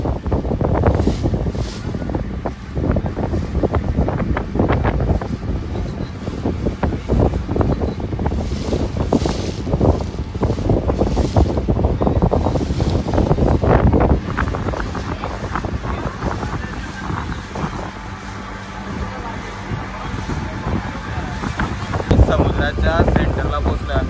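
Boats on the open sea near Alibag, with steady engine and water noise under heavy wind buffeting on the microphone throughout, loud and continuous.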